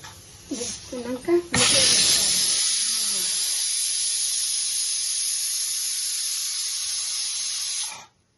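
A pressure cooker full of dal for Telangana-style pappucharu blasts a loud, sustained steam whistle. It cuts in after brief talk and hisses steadily for about six seconds before stopping sharply.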